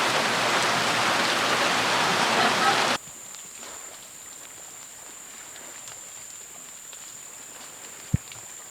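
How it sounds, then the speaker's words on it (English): Rain falls on Ulong Island in Palau, a dense hiss that is loud for the first three seconds, then drops to a quieter steady patter with a high insect-like whine and a single sharp tap near the end. "enjoy the sounds of the rain"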